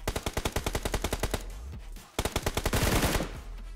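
In the video game PUBG, a teammate fires on enemies in rapid automatic bursts, a close, loud rattle of evenly spaced shots that pauses briefly near the middle and then resumes heavier.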